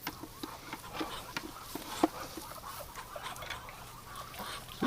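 Muscovy ducks call inside a duck house during winter egg collection, with scattered soft honks and quacks throughout and a louder burst near the end.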